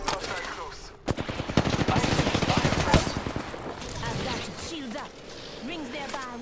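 Automatic weapon fire from an Apex Legends match rattles in a dense, rapid stream for a few seconds, loud and close, with voices talking over the shooting and afterward.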